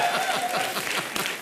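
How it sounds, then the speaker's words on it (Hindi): Studio audience applause on a comedy show, brisk overlapping clapping at moderate volume with a faint chuckle mixed in. "जोरदार तालियां होनी चाहिए"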